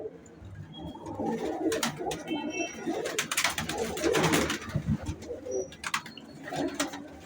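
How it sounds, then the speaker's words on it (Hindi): Pigeons cooing close by in a loft, several soft rolling coos overlapping in uneven bursts, with occasional light chirps and rustles. "देखिए जालदार कबूतरी ये ले जालदार कबूतरी का शौक करें"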